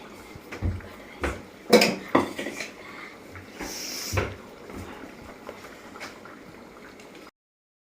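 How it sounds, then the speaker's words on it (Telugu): Paneer curry with freshly added cashew paste being stirred in a pan, giving scattered clinks and scrapes of a spoon against the metal at close range, with brief quieter gaps between strokes and no voices. "మనం జీడిపప్పు పేస్ట్ వేసాక ఒకసారి ఇట్లా కలబెట్టేసుకుందాం"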